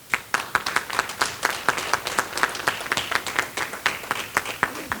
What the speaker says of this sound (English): I can expect some clapping for the name of Bhailal Bhai